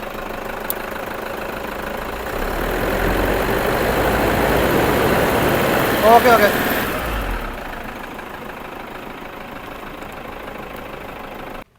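A used Mahindra Bolero or Toyota Fortuner 4x4 SUV engine runs steadily, swelling into a louder rev before dropping back to a quieter idle, with a person briefly speaking nearby.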